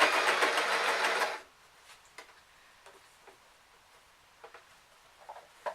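A sewing machine stitching a tube of fabric, a fast close rattling run of about a second and a half, then stopping, followed by quiet fabric handling and small clicks.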